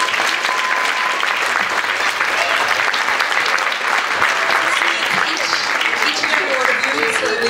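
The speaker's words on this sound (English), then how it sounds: "I definitely think that entire performance deserves another round of applause" After a school instrumental concert, the audience gives a sustained, loud round of applause, a full, even wash of clapping with faint crowd noise and possible voices mixed in.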